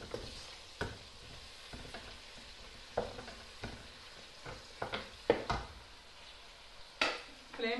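Tomatoes frying in a pan for chicken jalfrezi, a faint sizzle broken by repeated spoon scrapes and taps against the pan at an irregular pace.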